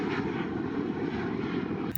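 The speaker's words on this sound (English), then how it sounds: "he was going into Atlanta, and it's always cool to see a low 747" A Boeing 747 flying low on approach into Atlanta, its engines giving a steady, loud roar that holds throughout before cutting off abruptly at the end.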